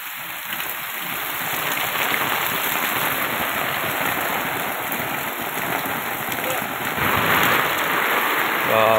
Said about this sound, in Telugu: వర్షం తీసిపెట్టి పారుతుంది